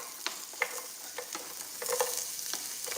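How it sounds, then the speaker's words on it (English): Onions frying in a pan, a soft continuous sizzle broken by several scraping stirs, heard close and fairly quiet with no one speaking. "we're gonna throw some onions in there"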